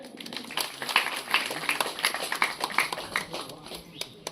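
An audience claps at a felicitation ceremony during a village temple anniversary celebration, with rapid, scattered claps rising and falling in waves, mixed with murmuring voices.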